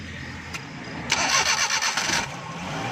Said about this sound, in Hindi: तो गाड़ी को सलफ लगाओ।